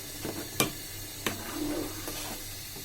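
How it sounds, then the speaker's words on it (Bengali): Sesame seeds tipped into a pot of payesh made with date-palm jaggery, then stirred, giving a few sharp scraping clicks of the spoon and a soft grainy rustle, fairly close and with no talking. "এই তিল আমি এখন এটার মধ্যে দিয়ে দিব"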